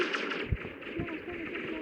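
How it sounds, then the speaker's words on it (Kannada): Gunfire in the video game Solar Smash, a few muffled thumping shots over a steady rumble of game effects, with a voice speaking during the shooting. "ಗನ್ನಲ್ಲಿ ಶೂಟ್ ಮಾಡ್ತಾಯಿದ್ದೆ"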